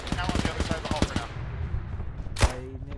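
Rapid bursts of gunfire in a Stalingrad World War II video game, a quick run of sharp shots followed by one louder crack near the end, with players talking over the action.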